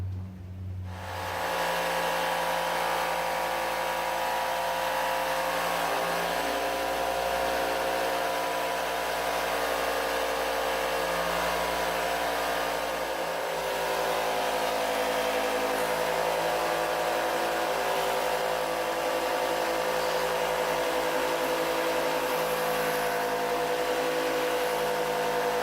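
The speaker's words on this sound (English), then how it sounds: "And as for cutting MDF, time for the good dust mask." A router cuts MDF while carving letters for a coin-run moneybox, giving a loud, steady high-pitched whine that runs almost without a break from just after the start to the end, with no talking.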